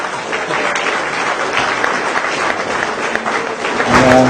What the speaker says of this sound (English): I think we should all applaud Stuart and Rebreather World for this.